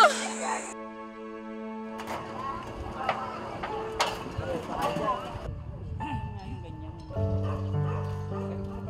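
A dog barks amid shouting and a chaotic scene after a river wall collapse in Navotas, with yips heard under loud overlapping voices, music-like tones and crowd noise.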